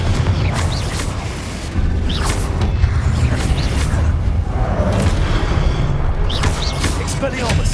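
Confringo blasting spells explode in Hogwarts Legacy, repeated booming blasts with whooshing bursts over a loud, dense game soundscape, with a voice speaking at times.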